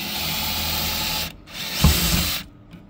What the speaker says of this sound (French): Ah bah, ça perce mieux.